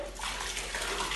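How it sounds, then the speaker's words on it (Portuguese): Squeegee pushing excess water across a floor during a house cleaning, a steady close wet swishing and sloshing sound with no talking. "Tirando o excesso de água."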